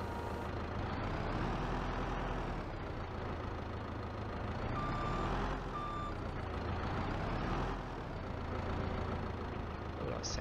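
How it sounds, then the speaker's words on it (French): A Liebherr loader with a 4000-litre bucket, working on a farm, rumbles with a deep, steady diesel engine. A couple of short electronic reversing beeps cut in around the middle. "on démarre ce petit liébert"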